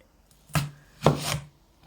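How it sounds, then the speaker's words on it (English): A knife chops salad vegetables for a beetroot salad, two distinct close chops on a board about half a second apart, with no talking. "Now we start chopping things."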